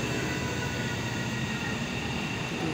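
Interior rumble of a high-speed train heading for Bandung Tegaluar station, a steady, dense low roar with broadband hiss holding at an even level throughout and no speech.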